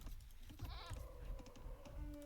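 Sheep bleat in a strategy video game, a few short wavering cries over soft keyboard clicking and faint background game sounds.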